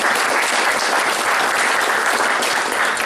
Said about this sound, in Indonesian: Berikan tepuk tangannya buat Tuhan Yesus.